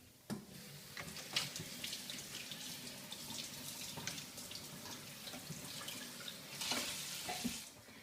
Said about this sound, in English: so I'm going to wash them in the sink